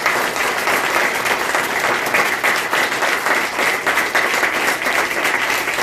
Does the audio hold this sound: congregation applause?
yes